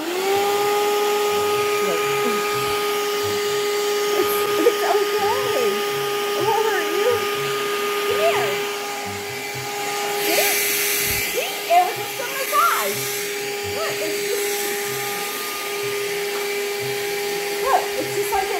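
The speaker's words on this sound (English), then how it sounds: "Can I vacuum you, Rose?" A vacuum cleaner hums steadily and loudly throughout, its motor whine holding constant while a person talks to a dog and makes small sounds over it.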